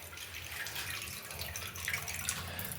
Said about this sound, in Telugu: నీళ్ళు బాగా వస్తున్నాయి